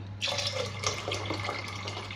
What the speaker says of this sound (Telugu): ఇంకొంచెం వాటర్ వేసుకుని హాట్ వాటర్ వేస్తున్నాము